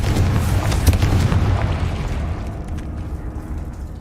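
A fiery Confringo spell explosion in the Hogwarts Legacy video game erupts as a loud, rumbling boom that rolls on and slowly fades over several seconds.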